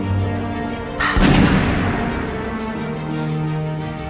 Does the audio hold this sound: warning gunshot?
yes